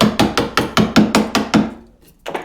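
Sharp, evenly spaced mallet blows drive a chisel into wood while cutting a cross halving joint, about seven strikes in quick rhythm, a brief pause, then a couple more knocks, close and loud with no talking.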